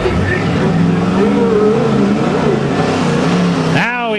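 An old Chevrolet Blazer diesel truck pulling a sled at a nighttime truck pull, its engine roaring loud and steady under an announcer's commentary before cutting off abruptly at the end.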